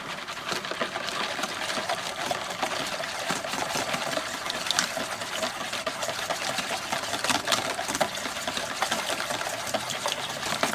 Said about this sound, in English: Just keep whisking all the way around to get that nice and color.